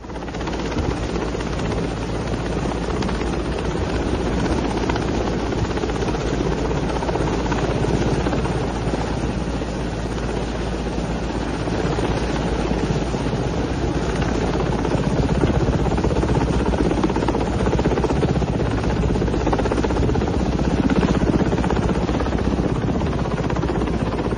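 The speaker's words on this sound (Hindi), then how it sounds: "तो ऊपर से हेलीकॉप्टर पहुंचा है आर्मी का, वहां से उसने उनको रेस्क्यू किया है" An army rescue helicopter's steady rotor thrum drones continuously, loud and unbroken, with no voices over it.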